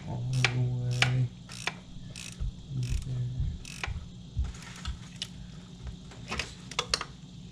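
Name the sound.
socket wrench tightening a bolt on an Audi Q5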